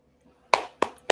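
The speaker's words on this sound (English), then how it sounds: "Can we get an applause on that one?" A clapper device set off on a podcast set, giving three sharp, separate claps at an uneven pace, fairly loud and close, with no voices over them.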